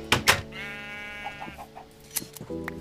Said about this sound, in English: looks like my sheep have some more wool